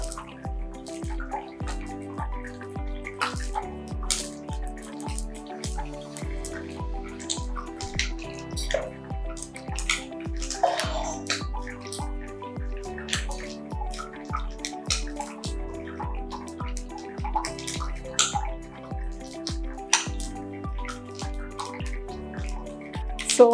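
Cooked vermicelli being rinsed under cold running water, a continuous splashing and dripping stream with a steady rhythmic patter throughout, fairly close and without speech.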